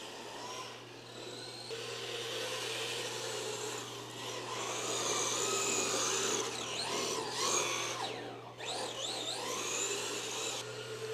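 Traxxas Toyota GR Supra GT4 4-Tec 3.0 RC car running laps on a road racing track, a steady whining electric motor drone that rises and falls with speed, with quick pitch sweeps as it accelerates out of corners.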